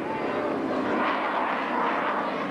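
An F-14 Tomcat jet roars steadily through a touch-and-go landing at an air show, a loud continuous engine wash.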